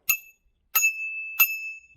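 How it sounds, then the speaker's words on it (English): Three bright, crisp dings from the bell on a Windone K20 electric retro cruiser bike, struck close by at a steady pace, the last two ringing on with a long clear tone. "this is the bell."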